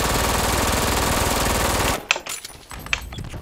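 Sustained automatic gunfire from the online shooter Brink, a loud continuous burst for about two seconds that cuts off, followed by scattered fainter shots and clatter.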